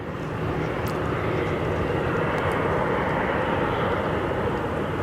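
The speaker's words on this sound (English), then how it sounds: "Stripy Condor on the taxi." A Condor airliner taxis at Zurich Kloten Airport, its engines giving a steady, loud broadband roar that holds constant throughout without breaks.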